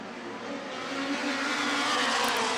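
USAC Midwest Thunder midget race cars at Kokomo Speedway, a loud droning engine roar that swells steadily as the field accelerates away on the green flag.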